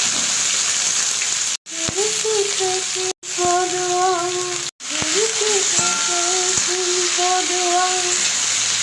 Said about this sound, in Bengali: আমি দিয়ে তেলের মধ্যে পেঁয়াজ দিলাম দেওয়ার পরে সবজিগুলো দিয়ে দিয়েছি